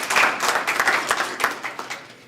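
Audience applause at a roundtable show, a steady wash of clapping hands that holds for about two seconds with no voices over it.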